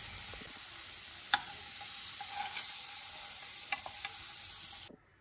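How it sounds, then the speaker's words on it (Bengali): Potato pieces fry in hot oil with salt and turmeric in a steady close sizzle. A few clinks of a spatula stir them, and the sound cuts off abruptly at the end. "আলুটা লাল লাল করে ভাজা হয়ে গেছে"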